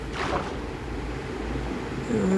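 Water flowing in the video game Minecraft, a steady watery rush that holds at an even level and swells slightly louder near the end.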